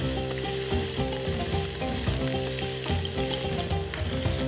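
Onions fry in hot oil with a loud, dense sizzle, broken by frequent stirring and scraping in the pan, and no voice over it.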